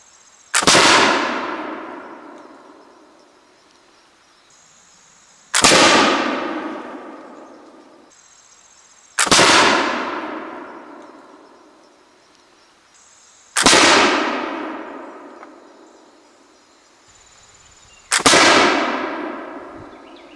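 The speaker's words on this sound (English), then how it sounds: "What I want to do is take 5 shots on a 25-yard target and just see where it's hitting" A Brown Bess musket fires five shots at a 25-yard target, each a loud sharp crack with a long ringing decay, spaced roughly four seconds apart with no talk.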